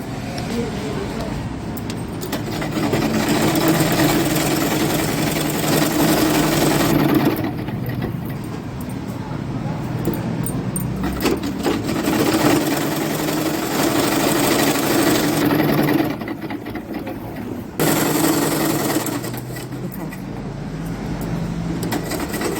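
Sewing machine stitching underwear fabric, its steady mechanical whir running in long close bursts with short pauses between seams, while someone speaks over it.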